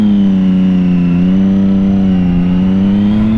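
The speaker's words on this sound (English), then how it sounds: "There's a double blip down in the first." A sport motorcycle engine, a 2006 Triumph Daytona 675 or 2007 Yamaha YZF R6, buzzes loudly up close as the rider blips the throttle twice while downshifting, its pitch dipping and rising in two brief swells.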